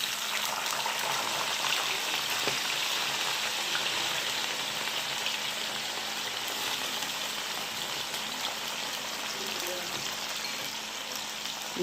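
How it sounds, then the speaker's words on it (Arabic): Potatoes frying in clean oil in a home kitchen pan while cooking moussaka, a steady dense sizzle and crackle that stays even and close throughout with no talk. "يبقى خلاص كده البطاطس تتحمر"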